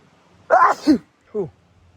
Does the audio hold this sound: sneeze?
yes